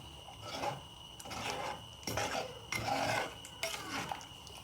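Medicinal herb rice porridge is stirred in a pot, with soft rhythmic scraping and rubbing strokes repeating about once a second, close and quiet.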